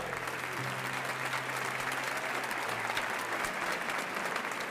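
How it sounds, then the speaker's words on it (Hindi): Steady, thick audience applause greets a guest walking onto a stage, a constant wash of clapping at an even level with a low hum running underneath. "गूंजती तालियों के बीच सिद्धार्थ स्टेज पर गया।"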